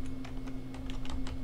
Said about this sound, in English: And I can even use my keyboard.